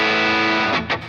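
An electric guitar rings out through a 1981 DRV distortion pedal, a thick sustained chord followed by a quick second strum, loud and close.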